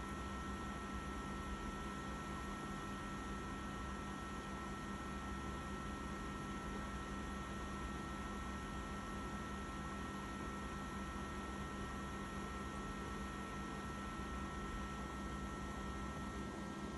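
Air blowing constantly from a VESDA smoke detection unit, a steady unchanging hiss with a faint hum, alone with no talking.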